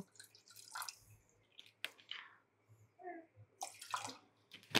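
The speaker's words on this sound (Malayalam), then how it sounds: "കുറച്ചും കൂടി വെള്ളം ഒഴിച്ചു കൊടുക്കുന്നുണ്ട്" Water splashes and gurgles into a metal pressure cooker in short pours, with dripping and brief clatters between them, close and fairly quiet.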